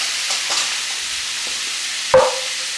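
Sausages frying in a pan give a steady, faint sizzle, with one sharp clatter and a brief louder hiss as they are flipped near the end.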